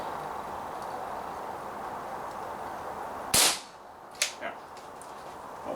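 A KWC M11 airsoft pistol fitted with a softer valve spring fires a sharp, loud shot, followed a moment later by two or three fainter snaps, over a steady low background hiss.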